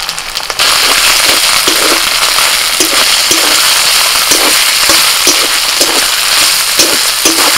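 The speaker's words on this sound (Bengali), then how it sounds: "পেঁয়াজটা ভাজা হলে আদা রসুন বাটাটা দিয়ে দিই।" Ginger-garlic paste hits fried onions in a hot pan, bursting into a loud, steady sizzle with crackling spits and pops that continue throughout after an initial flare.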